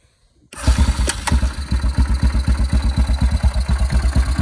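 A 2004 Yamaha Kodiak 400 ATV fitted with an aftermarket TANG carburetor fires up after a short silence, settling into a loud, close, lumpy idle with steady pulsing beats and a couple of sharp clicks near the start.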